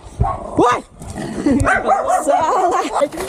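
A dog barks and whines close by in short bursts, with a person's voice mixed in and overlapping the animal sounds.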